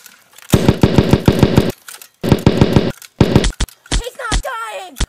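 Machine-gun bursts from soldiers fighting zombies in a World War II video game, several loud rapid volleys close by separated by short gaps, with brief voices and sharp cracks toward the end.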